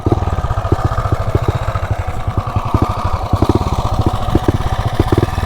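A Mega Moto 212 mini bike engine runs close and loud with a rapid, steady chugging beat, fairly even throughout with no talking.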